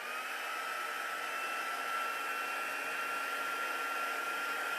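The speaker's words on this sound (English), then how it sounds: "So I'm going to turn on my heat tool and melt my powder." A steady, continuous blowing whir from a heat tool melting embossing powder, like a hair dryer, running loud and unchanging throughout with no other sounds.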